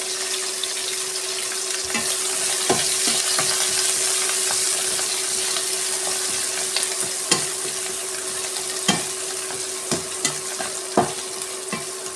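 Onion, green chilli and curry leaves sauté in a hot pan for chicken roast, a steady close sizzle with repeated sharp scrapes and clacks of a spoon stirring, no voices.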